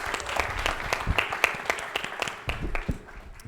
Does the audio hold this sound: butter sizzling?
no